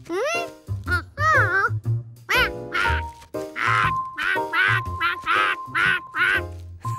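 A cartoon duckling quacks in a series of bright, nasal calls that come in quick bursts, close and loud. A child-like voice may be imitating the duck calls, and a low musical tone runs underneath.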